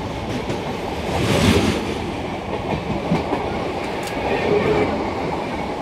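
The Vijayawada–Chennai Central Jan Shatabdi, a train with colourful coaches, rolls past with a continuous rumbling wheel clatter and faint rail noise, steady throughout with slight swells.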